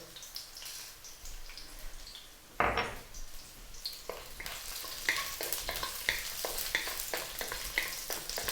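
Crushed garlic and whole peppercorns frying in a pan for quail adobo, a close crackling sizzle broken by scraping stirs and light clatters of utensil on pan.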